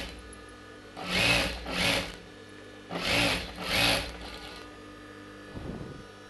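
A sewing machine stitches a blouse in a tailoring class, two short bursts of whirring running, a pause, then two more, close by, followed by a faint rustle of fabric.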